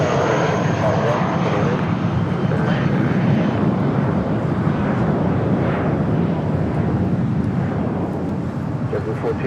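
A jet airliner rolls along the taxiway at LAX, a steady broad engine roar holding close and loud throughout, with a voice talking over it.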